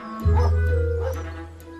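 A whippet gives a single loud, close bark-like yelp that trails into a drawn-out whine, with a low steady hum beneath it.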